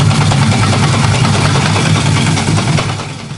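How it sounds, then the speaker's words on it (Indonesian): A sieve shaker machine sieves fine aggregate, a loud, steady mechanical rumble and rattling vibration running continuously at close range. "Nyalakan mesin sieve shaker untuk menyaring agregat halus selama 15 menit."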